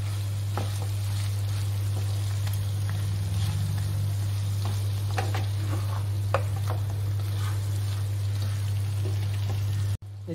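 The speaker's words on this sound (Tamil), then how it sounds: "இப்போ நீங்கள் இந்த எடுத்து வச்ச கொத்தமல்லி தலை அது போட்டு கிளறுங்க" Chicken fry being stirred in a pan after coriander leaves are added, a steady soft sizzle with scattered scrapes and taps of the spoon, close and continuous, over a constant low hum.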